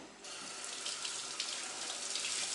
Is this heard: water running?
yes